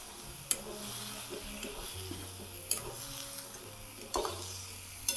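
Wheat-husk sandge made from kurdai dough is stirred into a vegetable dish in a pan over low flame, with a soft scraping rhythm, a few sharp clicks of the spoon against the pan, and a faint sizzle underneath.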